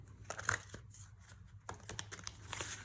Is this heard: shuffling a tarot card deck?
yes